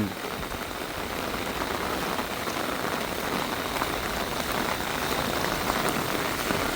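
Heavy rain, the first hard downpour of the year at a rural Thai home, pours steadily as a dense, loud, even hiss that holds without a break throughout.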